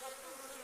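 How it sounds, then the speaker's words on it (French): A brief, quiet hum of bees buzzing, a steady droning tone over faint background noise. "Là, il y a un fameux paquet d'abeilles"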